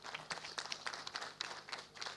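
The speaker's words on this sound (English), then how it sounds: "I think we can give a clap to Professor." An audience gives a quiet, scattered round of applause for a professor at a formal university ceremony, the claps faint and irregular.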